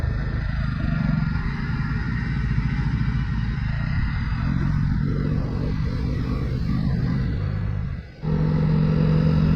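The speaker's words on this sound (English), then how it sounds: "it was good fun trying to push the Java to slightly higher speeds along these roads" Jawa motorcycle pushed to higher speeds on narrow country roads after a storm, a steady loud engine drone with wind rumble throughout, briefly dipping near the end before resuming.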